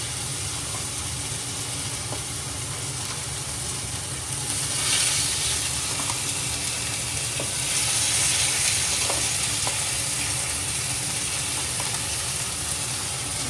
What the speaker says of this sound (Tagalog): Ito naman yung piprituhin natin pero hindi yung pritong-prito.